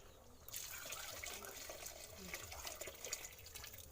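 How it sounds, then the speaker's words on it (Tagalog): Water pours from a tap into a blackened cooking pot over a wood fire while mung bean stew is being made, a steady running fill that starts abruptly and then continues, faint, with small splashes. "Lalagyan natin ang tubig."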